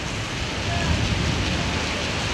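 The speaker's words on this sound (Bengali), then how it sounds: "দেখতে পাচ্ছেন মালয়েশিয়া প্রচুর পরিমাণ বৃষ্টি।" Heavy rain pours down at a market in Malaysia as a steady, dense hiss that stays constant throughout.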